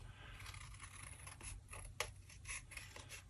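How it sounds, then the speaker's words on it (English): Quiet snipping and rasping of scissors trimming a paper photo, a few soft cuts close by over faint background hum. "I'm just going to do that manually here"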